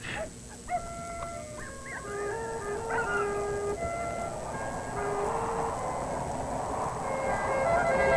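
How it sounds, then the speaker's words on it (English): Several dogs howl and yip at night in a film scene, long wavering howls rising and overlapping at a distance over a steady background hiss, with no talk. "Dogs are noisy tonight."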